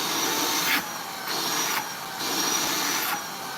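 A cordless vacuum cleaner runs with a loud, close, steady hiss, its pitch shifting in alternating bursts as airflow changes roughly every half second, with no talk over it.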